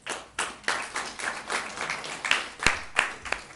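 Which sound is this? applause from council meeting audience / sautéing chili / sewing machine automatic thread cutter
applause from council meeting audience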